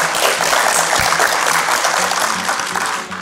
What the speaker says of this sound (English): So give yourselves a big round of applause for that one.